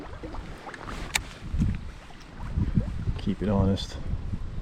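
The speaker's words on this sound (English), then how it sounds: "the wind is really starting to pick up now" Gusty wind sweeps across open water around a small fishing boat, a steady blustery rush buffeting the microphone while someone talks over it.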